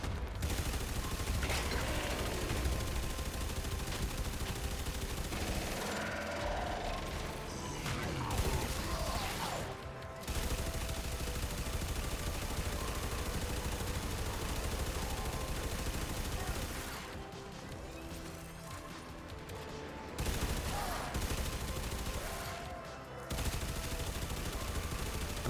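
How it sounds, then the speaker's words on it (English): Near-continuous heavy weapon fire in Warframe aimed at an enemy's leg plate, loud rapid bursts with brief pauses and some mechanical clanks, with occasional talk beneath. "I'm just gonna keep shooting the leg plate from here."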